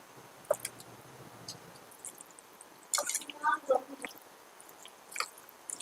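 Washed chicken pieces go into a masala mixture for biryani, with soft wet squishing and scattered handling clicks, fairly faint and close, with a few louder bursts midway.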